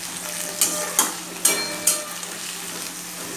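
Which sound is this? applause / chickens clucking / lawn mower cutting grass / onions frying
onions frying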